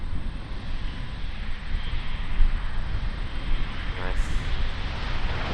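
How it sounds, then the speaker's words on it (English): A Jetstar Airbus A320 arriving at Auckland from Christchurch produces a steady, moderately loud broadband rush of engine noise, with a brief spoken word near the start. "Jetstar flight 232 in from Christchurch now coming in. It's an Airbus A320"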